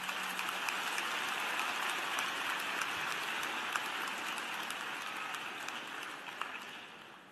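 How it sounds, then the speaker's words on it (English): A large audience at a spring graduate commencement gives the Chancellor a warm round of applause, a soft, distant, even patter of many hands that slowly tapers toward the end. "Will you please give our Chancellor a warm round of applause?"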